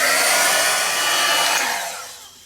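A hair dryer blows hard and close over an acrylic-painted art journal page, a steady loud whooshing roar that fades off in its final moments as it is switched down.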